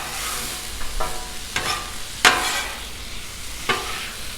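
Korean sloppy joe meat frying on a Blackstone griddle, stirred by a spatula: a steady sizzle runs throughout, broken by several sharp scraping strokes, one loud one near the middle. No talking.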